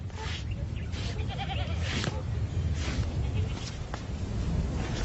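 A small herd of goats at a desert well in Tuareg country, bleating repeatedly at close to moderate distance over a continuous bed of outdoor noise and shuffling livestock.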